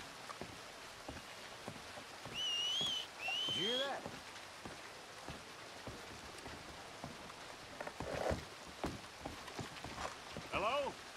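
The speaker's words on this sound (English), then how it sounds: "Did someone whistle out here?" A whistle from Arthur in Red Dead Redemption 2, two rising-and-falling whistled tones heard up close over steady rain ambience, with footsteps and speech-like sounds following.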